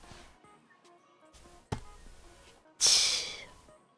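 A voice imitates a skateboard kickflip landing with soft mouth clicks, a sharp pop, then a loud hissing smack that quickly trails off.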